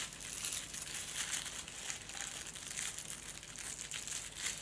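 A paper pouch crinkling steadily as an item is slowly worked out of it without opening it further, a continuous close, soft rustle and crackle of handled paper.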